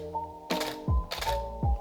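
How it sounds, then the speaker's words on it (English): A Canon 5D Mark III firing in quiet shutter mode gives two soft, muffled mechanical clicks about half a second apart, each with a brief thud, close and alone over a faint steady hum. "So I'm going to change it to the quiet shutter"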